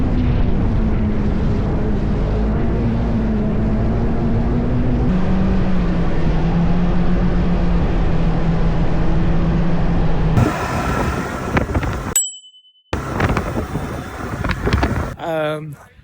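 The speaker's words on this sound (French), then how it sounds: "Un petit ride en motoneige!" A snowmobile ride in Lapland, with a steady loud engine drone and rushing wind for about ten seconds, then rougher handheld noise and people talking.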